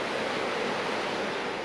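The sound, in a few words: rushing river flowing beside a hot spring in Iceland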